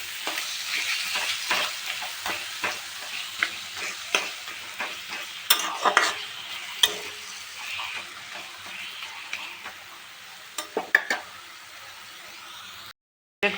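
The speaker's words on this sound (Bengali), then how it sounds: "সব মশলা দিয়ে এবার কষে নিচ্ছি।" Cauliflower fried with chili powder, tomato and spices, stirred in a pan, gives a steady close sizzle broken by repeated scraping strokes, then stops abruptly near the end.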